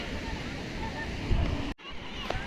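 Ocean surf rolls steadily onto Gokarna beach in Karnataka, a continuous broadband wash of breaking waves with wind buffeting the microphone and a brief dropout near the end.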